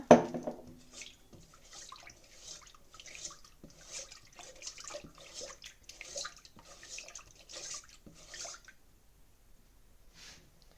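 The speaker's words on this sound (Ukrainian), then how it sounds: "Зараз вілю воду, розмішаю." Warm water trickles and splashes in a steady stream into a bowl for several seconds, close by, then stops; no talking.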